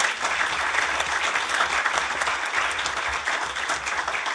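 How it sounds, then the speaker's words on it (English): Loud, continuous audience applause filling a large plenary hall at a skills and vocational training event, dense and even throughout with a low rumble underneath. "Yeah, applause."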